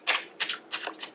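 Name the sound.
shuffling a deck of tarot cards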